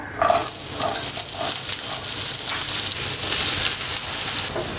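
Chopped onions frying in a pan with curry leaves: a constant loud sizzle and crackle, close, steady throughout with a few stirring scrapes.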